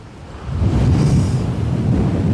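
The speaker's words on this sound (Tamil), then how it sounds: "சரியான காற்று, சமாளிக்கவே முடியல." Strong storm wind buffeting the microphone at the Pamban bridge by the sea during a cyclone warning, a loud steady roaring rush that swells after a brief softer start.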